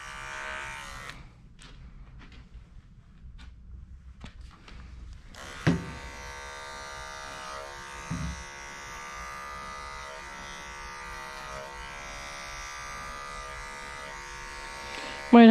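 Electric clippers buzz steadily and close through a dog's coat during a wide sanitary trim for a very short cut, starting after a brief gap and running continuously with small handling knocks.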